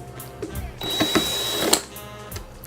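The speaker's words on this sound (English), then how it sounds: "I think these are the screws to take it out." A power screwdriver whirs while removing screws from a JBL Venue Sub 10 subwoofer, a close motorized buzz with a rising whine and clicks, in short bursts over background noise.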